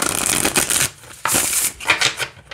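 Tarot cards being shuffled up close, quick riffling bursts separated by brief pauses.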